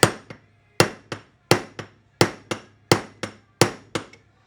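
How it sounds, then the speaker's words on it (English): A hammer taps a bushing onto a Datsun truck kingpin: about six firm, close metallic blows, each followed by a lighter rebound tap, in a steady rhythm with no talking. "you can see I'm tapping on it good and firm"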